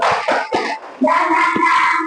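Children clap the rhythmic 'tepuk semangat' cheer in a group, with several sharp bursts of claps in a pattern under chanting voices, close and fairly loud.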